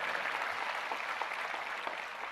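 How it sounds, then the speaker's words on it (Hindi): Sustained, dense applause from an audience at a yoga day event in Fatehpur Sikri, welcoming a minister; steady and even throughout at moderate distance, with no voices standing out. "ऐसे हमारे मुख्तार अब्बास नकवी साहब, मैं जोरदार तालियों से चाहूंगा आप लोग उनका स्वागत करें।"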